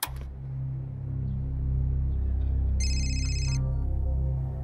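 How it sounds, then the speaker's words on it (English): Telephone ringing in a crime documentary, a single electronic ring burst over a loud steady low drone, fairly close. "Menina gets a phone call from the victim's cousin"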